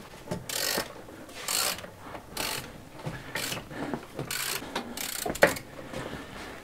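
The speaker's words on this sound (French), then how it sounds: "Je vais te filer la clé dynamo pour faire un serrage correct." A torque wrench clicking as bolts are tightened on a V6 2.7L HDI engine, several separate bursts of rapid ratcheting spaced about a second apart, close and fairly loud, with a sharp clack near the end.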